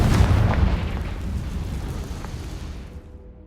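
A Confringo spell explosion in Hogwarts Legacy, a loud deep boom with rumbling debris that decays over a few seconds.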